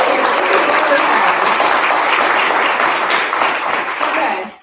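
Audience applause at a BFA thesis reading, dense and steady clapping that holds throughout before cutting off sharply at the end.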